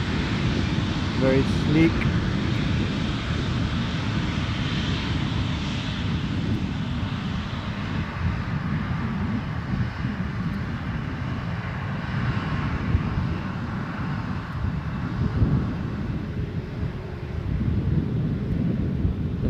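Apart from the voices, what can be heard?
United airliner passing at Edinburgh Airport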